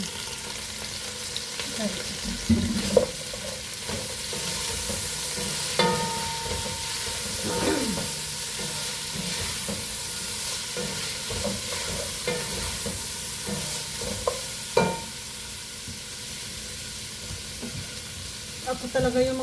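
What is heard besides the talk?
plant stems frying and being stirred in a pan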